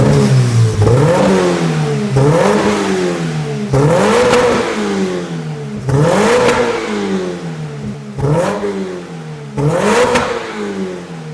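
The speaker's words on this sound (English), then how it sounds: "It's time to give it a rev and see how it sounds." A Toyota GR86 with a Milltek exhaust system revved repeatedly, about six sharp rises and falls in engine pitch with brief pauses between, loud and close with no talk.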